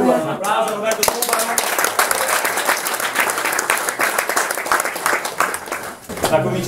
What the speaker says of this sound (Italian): Un applauso Roberto Tuba.